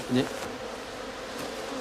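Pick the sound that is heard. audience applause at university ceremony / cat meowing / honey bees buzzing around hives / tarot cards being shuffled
honey bees buzzing around hives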